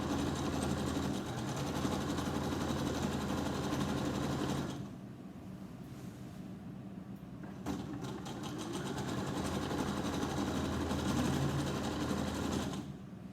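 A sewing machine runs steadily while stitching a curtain hem, giving a continuous close whirring hum that stops briefly partway through and then resumes at an even pace.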